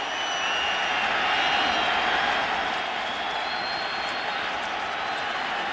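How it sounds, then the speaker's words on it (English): A stadium crowd at a 2007 Raiders–Broncos football game gives off a constant, loud, broad murmur that swells slightly and then settles, with faint commentary beneath it. "You hear that murmur in the crowd"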